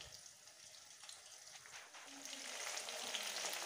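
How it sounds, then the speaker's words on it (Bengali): Chicken pieces fry in oil for chicken manchurian, a soft, continuous sizzle that grows gradually louder, with no talking. "চিকেনগুলো বেশ লাল লাল করে ভেজে নেব।"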